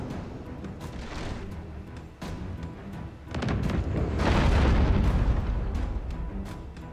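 Ship cannons fire during a naval battle in Abandon Ship, with a heavy volley of booms rolling into a loud, sustained rumble of broadside fire amid sharp cracks over ocean ambience.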